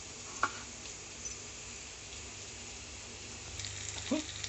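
Onions fry in oil in a pan for a mutton curry, a faint, steady sizzle with a couple of soft stirring clicks, heard quietly with no talking.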